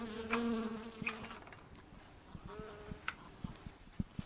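Bees buzz softly, with a few louder passes at the start and faint scattered clicks and taps through the rest, quiet and without talking.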